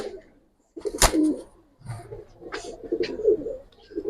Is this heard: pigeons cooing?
yes